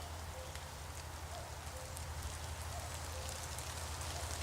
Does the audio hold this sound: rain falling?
yes